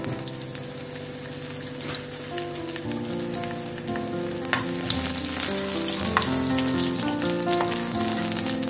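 Chopped garlic frying in soybean oil makes a continuous crackling sizzle that grows slightly louder, with light stirring scrapes and clicks and some background music, close and steady.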